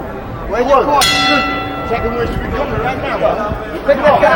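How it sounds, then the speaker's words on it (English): At a heavyweight boxing match, the ring bell strikes once loudly to start the third round and rings on over crowd chatter and commentary. "Darroll Wilson gets ready to answer the bell here for the third round of a scheduled 4-rounder"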